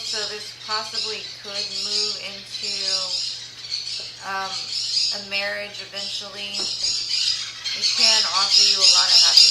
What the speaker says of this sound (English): I'm sorry about the birds, it's been a madhouse.